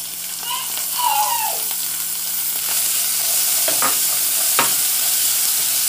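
Dried beef frying with onion in a pan, a loud continuous close sizzle with a few scraping stirs and clinks, a brief faint voice near the start.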